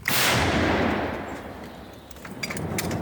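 A single loud blast from an M119 howitzer firing a shot booms at the start and rolls off into a long fading rumble, followed by faint clicks.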